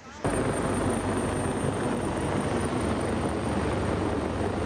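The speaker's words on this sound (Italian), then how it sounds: "abbiamo visto l'elicottero sorvolare la zona" A search helicopter flying over the area along the Naviglio canal between Dolo and Stra, a dense continuous rotor and engine roar that starts abruptly and holds steady and loud throughout.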